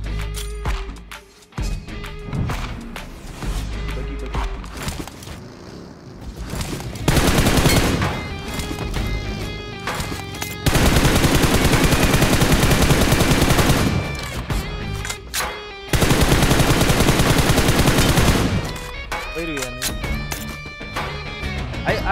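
Rapid automatic gunfire from the BGMI battle royale game, long dense bursts of shots alternating with short pauses, loud and close with background game music and effects.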